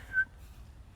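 A person whistles a single short, bright note, the kind of greeting call a father gave on arriving home, imitated by a voice and quickly fading into quiet room tone.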